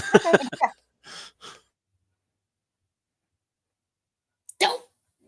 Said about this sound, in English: I forgot to bring my puppies in.